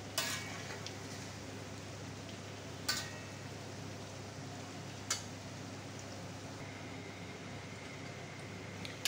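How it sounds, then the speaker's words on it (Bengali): Beef kebab patties frying in a karahi full of hot oil give a soft, steady sizzle, with a few sharp clinks of a utensil against the pan, no voices. "বন্ধুরা কড়াই ভরে টিকিয়াগুলো দিয়ে দিছি।"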